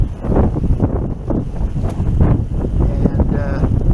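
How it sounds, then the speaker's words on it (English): Steady gusty wind buffets the microphone during an outdoor recumbent bike ride on a warm, breezy day, a continuous low rumble with swelling gusts throughout. "we got a bit of wind"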